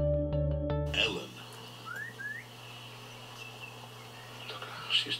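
A woman shepherd whistles to work sheep on a farm, giving a few short rising whistles that are faint and distant over steady low outdoor background.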